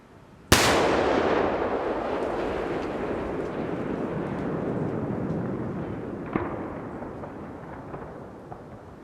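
A single loud, close explosive detonation with a sharp onset, followed by a long rumbling roar and debris settling that slowly fades over several seconds.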